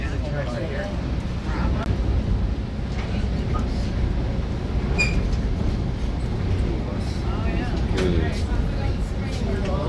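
A Conway Scenic Railroad train in autumn rumbles along steadily past swampy ground with a continuous low mechanical roar and faint clanks, with occasional voices talking over the running noise.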